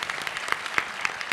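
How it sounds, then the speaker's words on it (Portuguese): A small audience claps for the editor Bárbara Bulhosa, a brief patter of scattered applause, fairly faint and uneven. "Palmas para ela."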